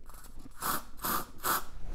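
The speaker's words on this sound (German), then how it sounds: "ich tue es am besten echt in die Achseln sprühen" Ombia Men Sport antiperspirant deodorant is sprayed from an aerosol can into an armpit in three short, close hissing bursts separated by brief pauses.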